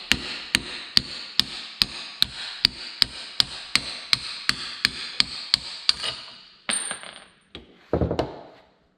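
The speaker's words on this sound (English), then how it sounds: "It's a bearing driver, bearing removal tool." A Craftsman bearing driver is hammered against a needle roller bearing on a 1550 tractor pump, giving about fifteen sharp, evenly spaced metallic strikes. A few heavier, duller knocks and scrapes follow.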